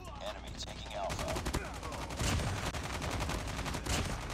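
Rapid BK57 automatic gunfire in the mobile shooter Call of Duty Mobile, dense bursts of fast shots continuing throughout, mixed with game effects and faint voices.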